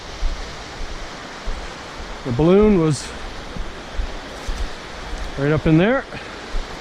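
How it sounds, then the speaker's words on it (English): A waterfall in Algonquin Park's spring forest pours as a constant broadband rush close by, while someone speaks over it twice. "right by this spectacular waterfall"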